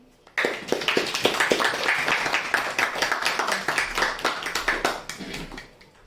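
A lecture audience at a homeopathy talk bursts into applause suddenly. A full crowd claps briskly and loudly for several seconds, then the sound thins and fades toward the end.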